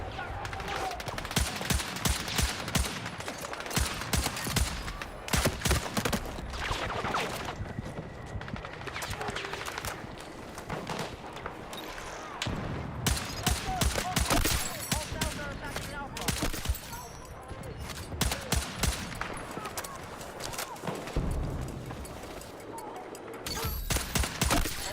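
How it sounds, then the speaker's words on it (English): Rapid gunfire from a weapon in a video game, with dense bursts of sharp, loud shots that stutter and pause throughout, close and dominant over a busy background. "I gotta fire it a little slower."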